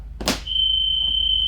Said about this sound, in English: I'm going to check my emergency exits. They open and the alarm goes off.